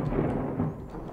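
Thunder from a lightning strike in the video game WorldBox, a dense low rumble rolling loud and continuous for a moment with no voice over it.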